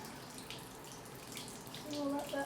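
Tap water runs into a basin to soak Shetland fleece, a soft, steady splashing that swells louder toward the end, with faint voices in the background.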